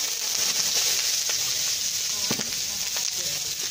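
Onion sizzling in hot vegetable or peanut oil for a Burmese fish curry, a loud continuous hiss close by with a few crackles and stirring knocks.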